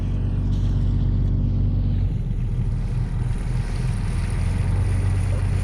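Boat driven by a rebuilt 1974 BMC diesel engine, its steady low drone running continuously with water wash and wind noise around it, no talking.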